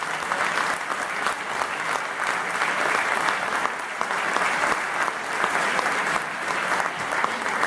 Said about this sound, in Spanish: A todos ellos este aplauso y muchas gracias.